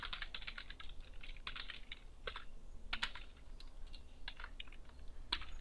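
Rapid clicking of keys on a computer keyboard, uneven bursts of typing with short pauses, close and fairly quiet, no voices.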